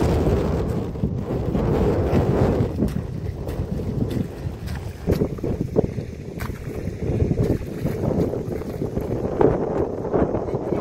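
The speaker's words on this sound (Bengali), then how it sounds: "মাঝে মাঝে এমন হাওয়া দিচ্ছে হাত দিয়ে ফোনটা উড়ে চলে যাবে এরকম মনে হচ্ছে।" Strong gusts of wind roar continuously across an open paddy field where a rice seedbed is being prepared, buffeting the phone microphone in a steady, loud rumble with occasional sharper bursts.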